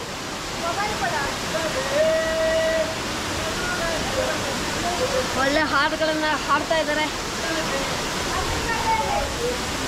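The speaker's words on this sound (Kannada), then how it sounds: "ನೀರಿನ ಶಬ್ದ ತುಂಬ ಜೋರಾಗಿ ಕೇಳಿಸ್ತಾ ಇದೆ" Sisters Falls near Hollemane roars with a loud, steady rush of falling water throughout, while nearby people talk and sing over it.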